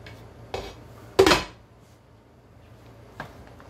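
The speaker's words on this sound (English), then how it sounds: "I'm going to put the lid on now." A metal pot lid is set onto a saucepan, giving a sharp clatter after a lighter knock earlier and a small clink near the end, with a low hum beneath in a quiet kitchen.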